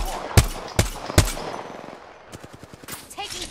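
Gunfire in the Apex Legends video game: three heavy, evenly spaced shots, then a quick automatic burst of rapid rounds, loud and close.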